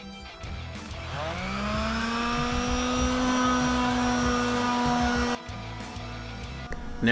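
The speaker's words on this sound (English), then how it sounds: "Now right here I use this sander." Power sander running on metal for a homemade trash dump, a loud steady whirring whine that rises in pitch as it spins up, holds for several seconds, then drops away briefly before restarting.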